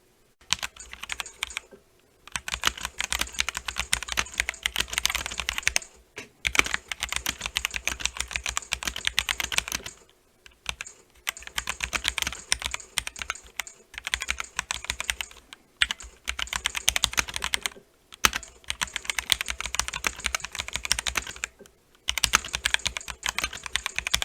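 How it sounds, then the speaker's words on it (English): Rapid, continuous typing on an NZXT Function computer keyboard, close up, in bursts of clicking keystrokes separated by brief pauses. "The microphone is going to be pointed at the keyboard, and so that'll be what you hear."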